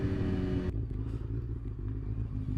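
A motorcycle at full throttle after a crash repair, a loud close engine roar that cuts off abruptly into a lower, rougher drone with some clatter as the ride continues.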